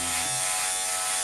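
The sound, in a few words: electric hair trimmer shaving a head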